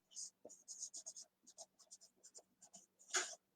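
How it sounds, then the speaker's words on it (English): A pen or marker writes on the back of a chalk transfer, giving close, quiet scratchy strokes in short rhythmic bursts with a soft breathy sound near the end. "we're going to write the transfer"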